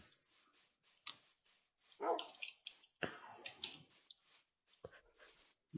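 Several dogs bark, yip and whimper in the forest of Firon in a video game, a scattered run of sharp, fairly close barks with short gaps between them.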